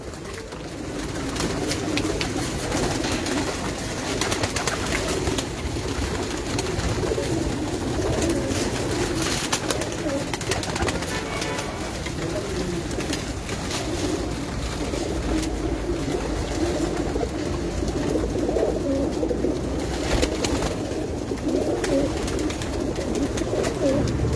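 Large pigeons on a rooftop loft coo together in a thick, unbroken low rumble that carries on without pause, close and fairly loud, with no one speaking.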